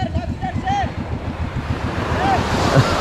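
Calm sea surf at a beach in Barangay Bukana, a steady low wash of gentle waves mixed with wind buffeting the microphone, fairly loud and close, with faint seabird-like calls above.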